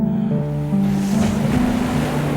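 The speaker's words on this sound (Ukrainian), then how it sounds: "море сердито бушує, надимає розгнівані хвилі, ходять хвилі і стогнуть, і виють" Stormy sea surf with rough waves surging and roaring steadily under gusting wind noise, loud and continuous, with a low tonal drone underneath and no speech.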